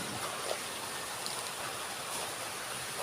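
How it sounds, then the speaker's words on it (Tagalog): Rain falls outdoors at a poultry yard, a soft, steady hiss of drops with a few faint patters, continuous and fairly quiet with no talking. "At maulan nga pala dito."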